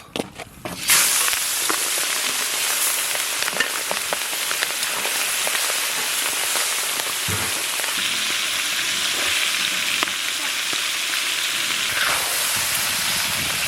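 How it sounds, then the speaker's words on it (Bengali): Big prawns fry in mustard oil, a loud, dense, continuous sizzle and crackle like heavy rain that begins abruptly after a brief clatter and holds steady throughout, close up with no talking. "সরিষার তেল, চিংড়ি মাছটাকে আমরা ভেজে নেব।"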